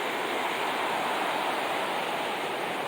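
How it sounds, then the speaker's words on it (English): The river beside Oregon's Hood River Pipeline Trail rushes in a steady, broad whoosh of flowing water, even and unbroken, fairly quiet with no voices. "So the river goes on up that way, flowing down."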